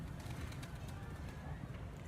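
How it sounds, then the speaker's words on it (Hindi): Domestic pigeons coo softly and continuously at a steady low murmur, with faint background noise and a bit of indistinct chatter. "ये भी घर के कबूतर है मेरे अपने"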